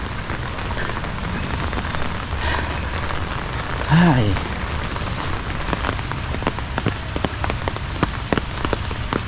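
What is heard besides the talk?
rain falling on surfaces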